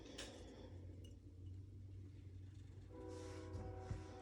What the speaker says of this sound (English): we have a very busy railroad just a few blocks from my house